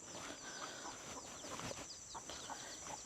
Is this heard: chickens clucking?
yes